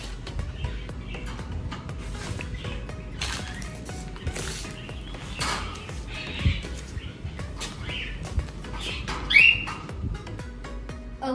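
Pet birds squawking and chirping in a newly set-up cage, scattered calls over a steady busy background with creaky rattling, one louder squawk standing out near the end.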